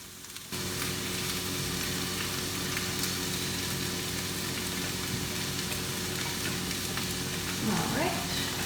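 Rice dropped into hot oil in a pan bursts into a loud, steady sizzle that continues without pause. A voice comes in briefly near the end.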